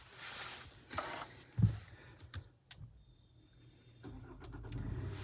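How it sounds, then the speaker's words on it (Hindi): A Kia Seltos HTK Opt starts up from inside the cabin: faint rustling and a few clicks, then a low engine rumble catches and settles into a soft, steady idle. "तो अभी आ चुके हैं गाड़ी के अंदर और करते हैं गाड़ी को स्टार्ट"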